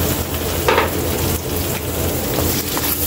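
Sliced onions fry in a pan for a pork chop dish, giving a steady, loud close sizzle with faint stirring clicks and no talking.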